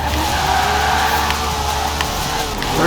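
A 1985 Toyota Trueno drift car in Forza Horizon 4 revs hard, its engine note climbing and dropping through gear shifts under sustained tire squeal. The sound is loud and close and continues without break.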